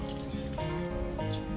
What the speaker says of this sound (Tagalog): And then, inalis lang namin ang tubig